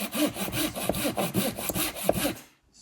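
A hand saw rasps back and forth through a tree in quick, regular strokes, close up, then stops abruptly near the end.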